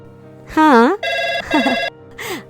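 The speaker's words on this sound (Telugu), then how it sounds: "అవునా, ఒక్క నిమిషం, ఫోన్ వస్తుంది." Telephone ringing loudly and close in a domestic scene, sounding as several separate rings with short gaps between them, each ring clear and strong over a quiet background.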